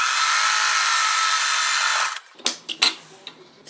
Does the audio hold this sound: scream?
no